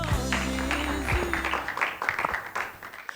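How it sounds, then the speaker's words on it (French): A studio audience applauds a guest arriving on a television talk show, a dense burst of clapping over a low musical hum that thins out and tapers into scattered claps within a few seconds. "On acclame encore."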